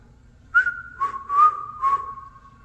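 A person whistles inside a courthouse room, four short rising-then-falling tonal notes in quick succession, clear and fairly close with no talk.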